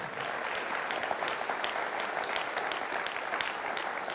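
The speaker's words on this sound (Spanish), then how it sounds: "¿Cuánto le dan fuerte aplauso a Dios por eso?" Steady, dense applause fills a church as the congregation claps together, a continuous even roar of many hands heard without any voice over it.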